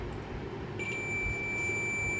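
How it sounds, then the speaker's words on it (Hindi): A multimeter's continuity buzzer sounds a steady, thin high tone that starts partway in and holds while a motherboard is probed for a short, over faint background hiss. "तो ये हमारा इधर बजर आपको सुनाई दे रहा होगा"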